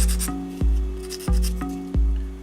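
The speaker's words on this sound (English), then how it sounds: "And then I clean off the gate with my sander or file" A file or sander rasps across the gate on a small photo-etch metal part for a 1/32 Lancaster scale model, three or four short strokes with a faint whine underneath, close up and alone.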